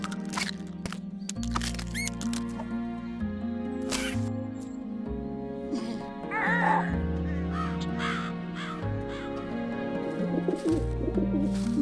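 Harsh crow-like cawing from a bird in the Gruffalo World: Room On The Broom game, a series of repeated caws over a sustained musical background, loud and close.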